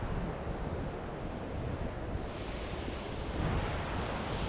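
Floodwater roars over a swollen dam in Scotland after heavy rain, a dense, steady rush with wind buffeting the microphone, loud and unbroken throughout.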